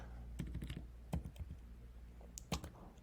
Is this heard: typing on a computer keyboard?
yes